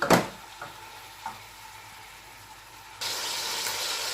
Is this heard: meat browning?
yes